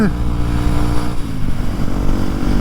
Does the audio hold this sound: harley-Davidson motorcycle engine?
yes